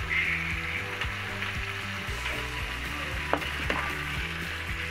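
Chicken fries in a pan with ground garlic, cardamom, curry leaves and onion. A continuous soft sizzle runs beneath steady tonal music, with a couple of faint clicks near the end.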